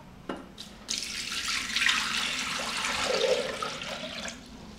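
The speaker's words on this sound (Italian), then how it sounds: "nel boccale metto l'acqua" Water is poured steadily from a tap into a Thermomix jug, a close, continuous splashing rush that rises in pitch as the jug fills, with no talk.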